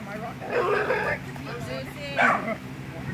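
A neighbor's dog yips and barks at Beaver Lake's Dam Site Park, two short excited bursts over a steady background hum with a voice talking nearby.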